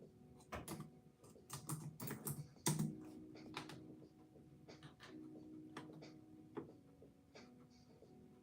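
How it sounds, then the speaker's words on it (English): Fingers tap away at a computer keyboard in quick, uneven bursts of close, crisp clicks, with short pauses and a faint background hum. "I'll type it in the chat."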